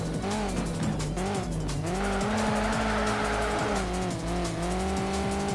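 A car drifts in Need for Speed Shift 2 Unleashed on PS3: a loud, continuous engine note rises and falls in pitch while a squealing tire screech joins in midway, with no voices.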